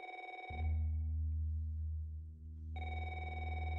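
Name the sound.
phone ringing in a video game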